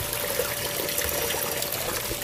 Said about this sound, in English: only 10 gallons of water running through it right now